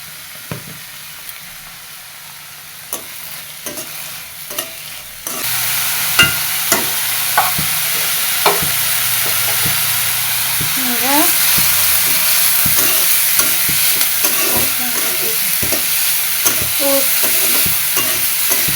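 Potatoes fry in a pan, starting with quiet scattered clicks of stirring before a louder, steady sizzle takes over, with utensil scrapes and taps continuing over the hiss.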